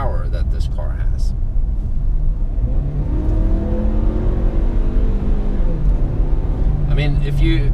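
A 2017 Ford Escape SUV accelerates hard, its engine note climbing steadily in pitch through the gears as it revs loud and close, with a voice heard at points over it.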